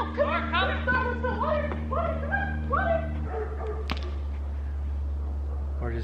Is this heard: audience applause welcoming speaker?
no